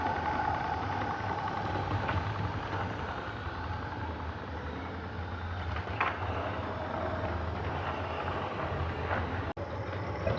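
A modified Regner Vincent geared live steam model locomotive with a new flywheel runs steadily, giving a continuous mechanical whirr and faint chuffing hiss at close range, with no speech.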